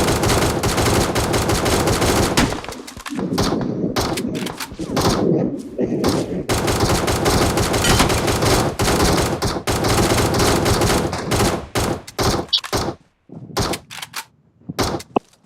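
Rapid gunfire and bursts of automatic fire in a shooting video game, loud and nearly continuous with thuds and brief gaps, while players talk excitedly over it.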